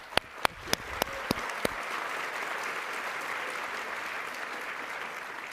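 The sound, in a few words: audience applause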